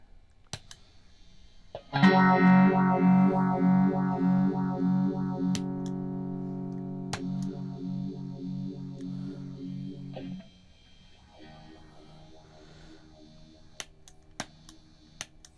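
An electric guitar chord rings out through a repaired MXR Phase 90 phaser pedal, a swirling, sweeping effect for about eight seconds, then fades to a quieter sustained note with faint hiss.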